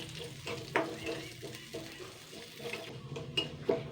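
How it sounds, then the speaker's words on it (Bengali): Moong dal fries in a little oil in a wok, giving a moderate sizzle with repeated stirring scrapes and light clinks of a spoon against the metal. "এবার আমি মুগ ডালটা দিয়ে দিচ্ছি মুগ ডালটা জাস্ট একটু আমি হালকা লাল করে ভেজে নেব"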